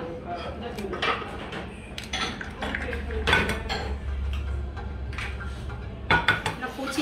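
Eggs beaten in a bowl for a breakfast in a restaurant kitchen, with repeated clinks and scraping of utensil against the bowl over busy background noise and some talk.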